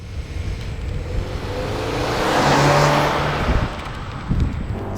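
A 2022 Subaru Forester Wilderness with a CVT and 2.5-liter boxer four launches off a brake boost, a steady engine drone swelling to a peak midway and easing slightly, with wind-like broadband rush throughout.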